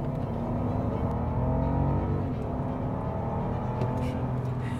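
A heavy three-ton Mercedes-Maybach S-Class accelerates hard from 0 to 100 km/h, its engine giving a steady, rising hum heard from inside the cabin.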